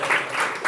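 Audience applause at a DevFest tech conference talk in Hamburg, a brief burst of many hands clapping together, fairly loud.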